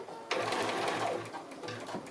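A sewing machine stitches a coiled fabric strip bowl in a short, close burst of rapid mechanical whirring and needle chatter that slows near the end, with no talk over it.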